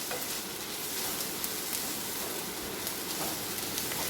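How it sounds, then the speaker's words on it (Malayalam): Coconut chickpea curry mixture is stirred over a medium-low flame, a dense continuous sizzle and bubbling hiss with faint scraping strokes running throughout, close and steady with no voices. "ഒരു മീഡിയം ടു ലോ ഫ്ലെയിമിൽ ഇട്ടിട്ട് ഇങ്ങനെ നല്ലപോലെ ഇളക്കി കൊടുത്തുകൊണ്ടേ ഇരിക്കുക"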